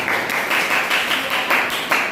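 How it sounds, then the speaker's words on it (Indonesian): Students in a ninth-grade classroom applaud their groups, a brisk, rhythmic clapping with regular pulses, loud and close, lasting a couple of seconds without other talk. "Tepuk tangan untuk semua kelompok yang sudah aktif."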